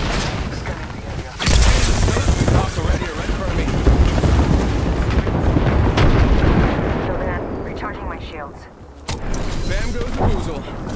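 Airstrike explosions in Apex Legends: after a brief lull, a heavy rolling barrage of booming blasts and gunfire erupts and rumbles on for several seconds, drops off briefly, then surges again, loud and close with deep low-end rumble.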